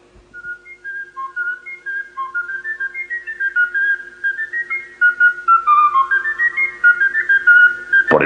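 A flute played by a Savoyard boy of about ten in a Spanish radio drama of Les Misérables carries a lively, wandering melody. Clear, close notes step upward and grow louder before ending on a sudden burst.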